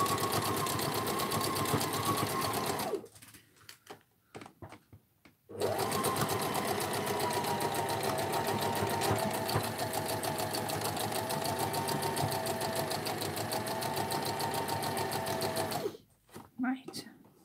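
A foot-pedal sewing machine stitches fabric with a loud, steady mechanical whir, stopping briefly twice before running on again, while a person talks over it.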